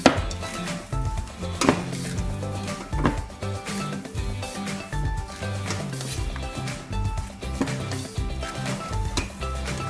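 Chocolate chips being folded by hand into thick red velvet cookie dough, with rhythmic scraping and clinking of a spoon against a bowl, close and continuous, with no talk.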